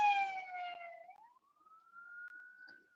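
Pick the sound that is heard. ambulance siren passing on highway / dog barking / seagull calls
ambulance siren passing on highway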